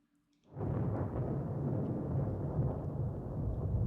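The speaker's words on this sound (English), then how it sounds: "lightning was tearing through the sky, and rain was falling in a torrent" Heavy thunderstorm with torrential rain in the visual novel game Cupid Parasite, a dense, steady roar of rain and rumbling thunder that swells in suddenly after a quiet start and stays loud throughout.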